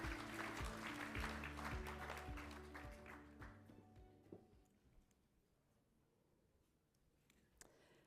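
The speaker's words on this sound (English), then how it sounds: "Please, a big round of applause, please." A plenary audience at a sustainable transport conference claps warmly, the applause loud at first, then thinning and fading over several seconds to scattered final claps.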